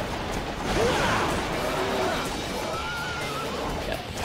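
A horse neighs in the video game Devil May Cry 3, a wavering whinny that rises and falls over a loud, dense backdrop of game noise.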